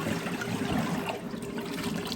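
Cabbage being washed in cold vinegar water, a dense, continuous wash of sloshing and swishing liquid, close and fairly loud with no pause and no voices.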